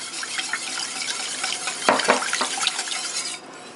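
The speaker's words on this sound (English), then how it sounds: "And I'm also going to add 1 cup of milk." Milk pours into a thickening sauce for chicken à la king, giving a steady close liquid splash and gurgle. Mid-pour, a few louder sloshes and stirring sounds come through before the flow drops off near the end.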